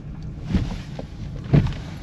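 Used car pulling away on a test drive in sport mode, a low engine and road rumble with a couple of soft bumps and some wind noise, moderate and steady inside the cabin.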